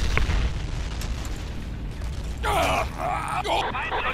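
A grenade goes off in Battlefield 1942, a low boom at the start, then a busy, muffled rumble of battle that runs under a voice speaking loudly near the end.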